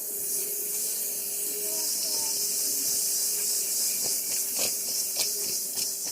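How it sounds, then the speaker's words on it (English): A garden hose sprays water over produce in a colander, a steady close hiss with a few faint clicks and splashes throughout. "Use my hose and start rinsing them"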